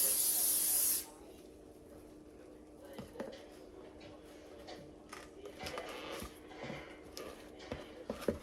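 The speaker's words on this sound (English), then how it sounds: "I'm gonna spray down my iron again." Cooking spray spritzed onto a hot mini waffle maker, one short loud hiss at the start, then quiet sizzling and small clicks and knocks from the appliance.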